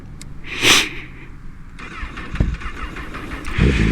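A 2017 Honda CBR1000RR motorcycle engine starts, a brief crank and catch that settles into a steady, moderately loud running rumble, preceded by a short hiss-like burst.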